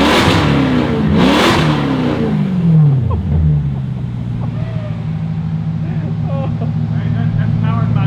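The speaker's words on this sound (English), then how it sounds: "We're gonna have to hear this glorious Maserati" A Maserati engine revs hard close by, with a rising and falling pitch over the first few seconds, then drops into a steady, loud droning cruise; voices are heard over it.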